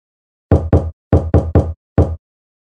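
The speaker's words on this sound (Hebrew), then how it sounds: "נקישת הדלת" Six firm knocks on a door, sharp and close, grouped two, then three, then a final single knock, with nothing else heard around them.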